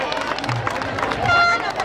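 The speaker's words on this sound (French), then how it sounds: "Un applaudissement pour monsieur." An audience at the 15th Fête de l'amitié, a Belgian community festival, applauds the Prime Minister: a steady, dense patter of many hands clapping amid crowd hubbub and scattered voices, holding at an even loudness throughout.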